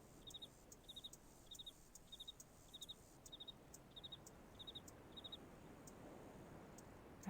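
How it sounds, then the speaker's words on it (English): In the video game Riven, a cricket chirps in a steady rhythm of short, faint trilled bursts repeating about every half second against a quiet ambient backdrop, with no talking. "Some kind of a cricket."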